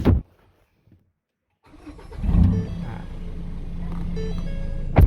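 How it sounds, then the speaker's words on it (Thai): A Ford Ranger pickup starts with the key: a cranking burst catches into a steady, close idle that runs on for several seconds, with a short sharp knock at the start and end. "รถสตาร์ทติด"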